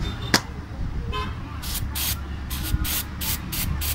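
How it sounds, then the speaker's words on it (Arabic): Aerosol spray hisses onto a water pump motor mount in several short bursts, each spurt a loud close hiss, with steady background noise and a sharp click or tap between bursts. "نجي نخلي عليه شويه بخاخ."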